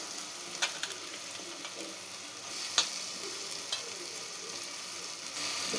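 Ginger garlic paste frying with softened onion and tomato for Sunday mutton kulambu, a quiet steady sizzle with repeated scraping stir strokes and light clicks of a spatula against the pan.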